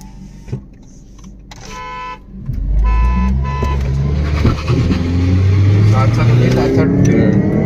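A car horn gives a few short honks, then an engine roars to life and revs loudly and steadily at the start of a drag race between Accord 2.4 and 3.5 V6 automatics.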